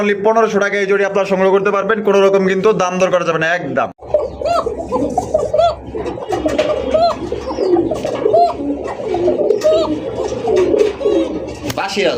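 Dhakaiya pigeons coo in repeated soft, rolling calls up close, with someone talking loudly over them at the start and chatter continuing around the birds.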